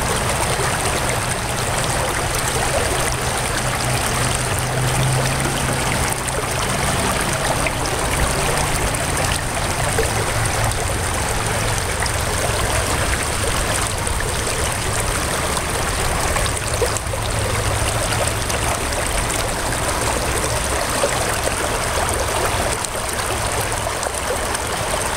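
Steady, continuous rush of water washing over the slick plate and rib mat of a gold sluice in a creek, a constant close-up flow that runs unbroken throughout with no voices.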